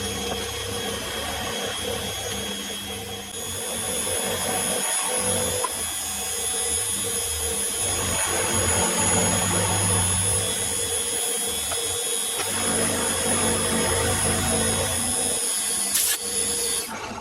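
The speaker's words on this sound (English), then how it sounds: "Decided to get out this 20mm end mill that I gave a tickle to the other day and see how well it goes milling this off." A 20mm end mill cuts a piece of scrap metal with a continuous loud whirring and grinding roar, machine hum and shifting chatter running throughout with no talk.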